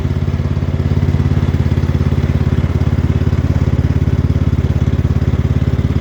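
A small garden tractor engine, an XT1 Enduro series, runs steadily after a cold start with a rapid, even low-pitched thrum and clattering pulse, close and loud throughout.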